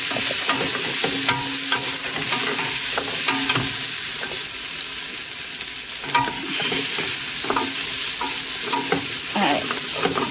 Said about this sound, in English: stir until the garlic is fragrant